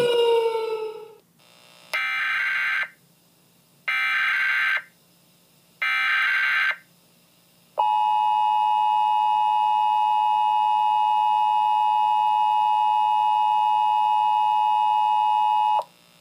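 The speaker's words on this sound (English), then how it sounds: "He broke into the control room and activated the sirens and emergency alert system." Tornado warning sirens and an emergency alert system sound in a city: three separate loud electronic tone bursts, then one long continuous steady alert tone that lasts several seconds and then stops.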